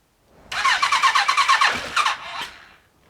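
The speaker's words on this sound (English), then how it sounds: "Ignition on. Choke on. Let's hit the starter button." Suzuki GSX-R motorcycle starter cranking in a quick rapid rhythm for over a second before the engine catches and gives a short rev, close and loud, then dies down.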